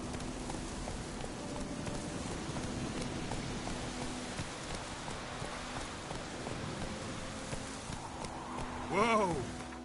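Hooves of Roach, a horse in The Witcher 3, clip-clop steadily under rain-like game ambience, with a brief tonal swell near the end.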